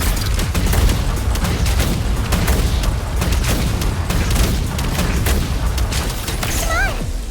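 A grenade explosion in the video game Genshin Impact booms amid dense, continuous rumbling blasts and crackling debris, loud and sustained throughout.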